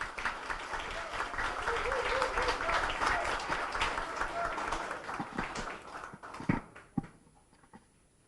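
A crowd gives a big round of applause to welcome candidate Yang Kyung-kyu at a party leadership campaign rally in Chungcheong, clapping dense and sustained before thinning into a few scattered claps and fading.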